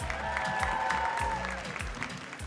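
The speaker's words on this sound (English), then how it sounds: "big round of applause for Tokischa" Conference audience at Selectcon applauding for Tokischa during a brand talk, a steady, moderately faint patter of clapping throughout, with a voice briefly audible under it.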